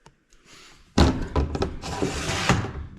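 A wooden chick coop door is opened and closed nearby, with a few soft clicks followed by a solid thunk and scraping, rattling handling noise.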